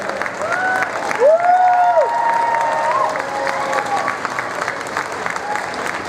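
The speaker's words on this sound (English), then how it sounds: "And I'd like to also just extend this round of applause to Ash from Tomb of Ash" Audience applauding a Tomb Raider 20th anniversary panel at the Play Expo gaming convention, a dense, steady wash of clapping from a large crowd that holds through the whole stretch, with a faint whistle or cheer rising above it.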